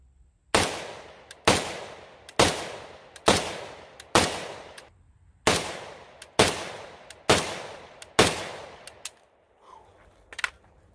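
AK47 rifle fired in a steady series of about nine loud, sharp gunshots roughly a second apart, each with a short decaying echo outdoors, followed by a couple of fainter shots, no talking.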